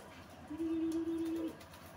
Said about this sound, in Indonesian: Banyak sekali ini burungnya Mas Firman.